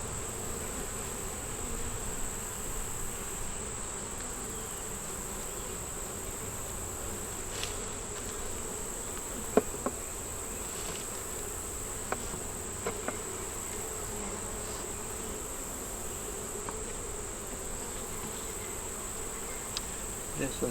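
Honey bees buzz on hive frames with wax moth damage, a soft, continuous hum that lasts throughout, with a few faint clicks.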